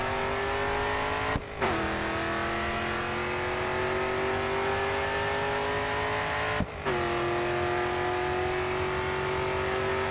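A race car engine in the GRID 2 video game drones loudly and steadily at high revs, broken by two brief gear-shift dips before the pitch climbs again.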